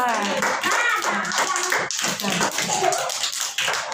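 Children and adults clap their hands at an anganwadi centre nutrition and first-feeding ceremony, a dense run of sharp claps mixed with voices talking and calling out throughout.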